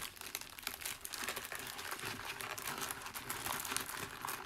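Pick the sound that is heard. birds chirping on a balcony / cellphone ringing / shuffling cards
shuffling cards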